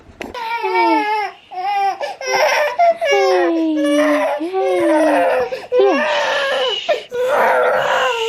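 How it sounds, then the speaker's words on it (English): A baby boy cries and screams at bedtime during sleep training, loud, close wails in repeated bursts with short catches of breath between them. "he has not stopped screaming my whole workout."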